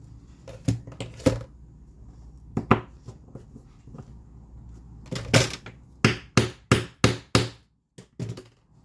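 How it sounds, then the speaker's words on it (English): A hammer strikes a loose rivet on a battle vest in sharp, close taps: a few scattered blows at first, then a quick series of six or seven evenly spaced hits near the end. "Let me fix this right here because I have a loose rivet."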